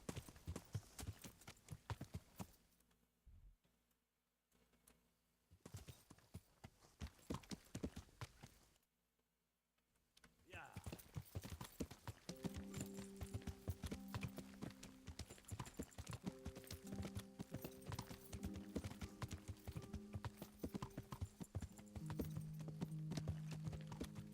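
Horse hooves clip-clop in Kingdom Come: Deliverance in a steady walking rhythm, briefly fading to near silence twice before resuming, with soft music tones joining later and a brief whinny.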